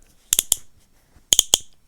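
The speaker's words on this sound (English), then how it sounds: "Makes a cool clicking sound." A Mickey Mouse ice cream figure gives two separate bursts of three crisp, close clicks each, with near silence between them and no talking.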